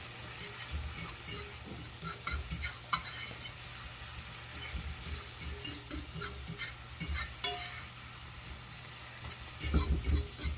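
Freeze-dried ground beef and onions are stirred in a pan, with a steady scraping, sizzling texture and occasional utensil clinks, close and continuous with no voices.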